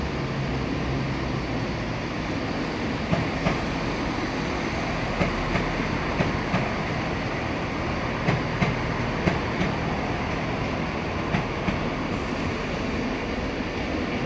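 A Pendolino train passing through Edinburgh Waverley station gives a steady, fairly loud rumble with faint rhythmic clicks from the rails, heard alone and without talk.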